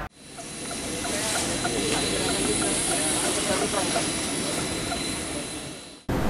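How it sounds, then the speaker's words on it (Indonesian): An Indonesian military Boeing transport aircraft lands at Rendani Airport in Manokwari, making a loud, steady, broad engine roar that fills the whole stretch before cutting off abruptly. "sebuah pesawat milik TNI Angkatan Darat jenis Boeing AI-7304 mendarat di Bandar Udara Rendani, Manokwari"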